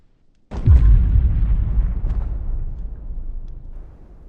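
A single deep video game explosion in PEAK booms suddenly after near silence, followed by a long rumbling roar that slowly fades out.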